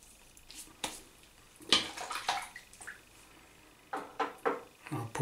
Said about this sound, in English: Pause here, get some fresh water in the sink